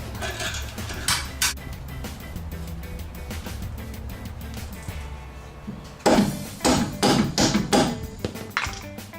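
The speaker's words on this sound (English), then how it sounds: "I'm going to start removing the end link nut itself." Wrench loosening the end link nut on a Mazda Protege rear strut, with an Allen key holding the stud; metallic taps and ratcheting clicks, quieter at first and then a louder burst of sharp clanks over the last three seconds.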